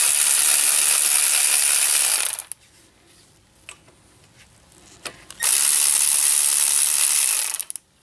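Ratchet wrench backing out front brake caliper bolts on a 2006-2012 Ford Fusion: two loud bursts of rapid, dense ratcheting clicks, each about two seconds long, separated by a quiet gap with a few faint clanks.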